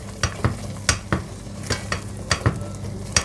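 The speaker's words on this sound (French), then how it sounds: "rajouter à peu près une petite cuillère de jus de citron. Je mélange le tout" Apple jam with a spoonful of lemon juice stirred in a pan, a spoon scraping in irregular knocks and swishes over a soft background bubbling, close and fairly quiet, no voices.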